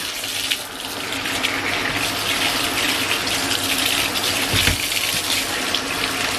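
Tie-dyed shirts are rinsed under running tap water. A steady, close gush of water pours and splashes into a sink throughout, with a brief heavier splash midway and no speech.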